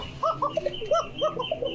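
Pigeons coo nearby at a pigeon market in Bogura, several short throaty calls repeating in quick succession over a quiet background.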